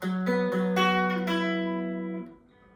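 A short run of plucked guitar notes rings out one after another, each overlapping the last, then fades as the final note decays.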